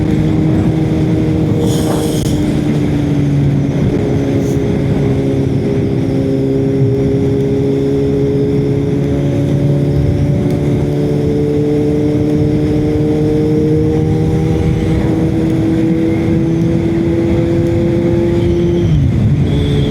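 Kawasaki Z900 motorcycle with a loud exhaust, engine note rising steadily under acceleration, with a brief dip around a gear change, then pulling on in top gear, close and continuous throughout, with wind noise behind it.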